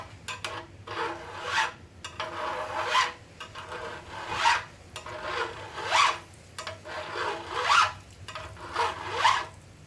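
A hand file rasps over the rolled-over teeth of a K.O. Lee grinder part in slow, rhythmic strokes, each a soft scraping swell repeating about every second, close and quiet with no voices.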